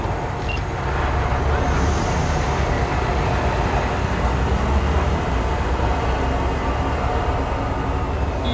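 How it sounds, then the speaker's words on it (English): Train departing in Cyberpunk 2077, a loud continuous rumble and rolling rail noise with a broad wash of hiss, steady and close for several seconds. "Train's leaving."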